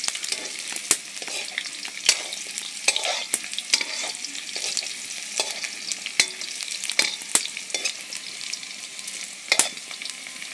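Potatoes frying in a pan and being stirred, a soft sizzle beneath repeated scraping clatters of the spoon against the pan at an irregular pace, close by with no talk.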